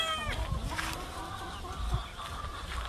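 Chickens on a farm in Hawaii, a rooster among hens, clucking and calling near and far in a steady busy chorus with no talk.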